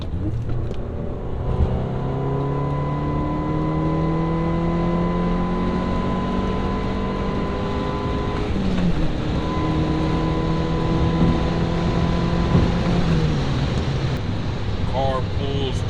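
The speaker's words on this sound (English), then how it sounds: "Car pulls super strong, man." A car fitted with a Clutch Masters FX250 clutch accelerates hard through a pull, heard from inside the cabin as its engine revs climb steadily, break briefly at a gear shift, then climb again, loud and continuous.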